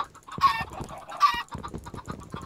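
Minecraft chickens clucking in a game, several short clucks in quick succession at close range with brief pauses between them, no talk over them.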